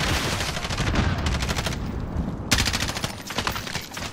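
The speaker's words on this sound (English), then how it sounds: "Oh, I'm getting shot at." Gunfire in Call of Duty Warzone, rapid automatic shots rattling continuously at moderate loudness, with a brief lull midway before the firing resumes.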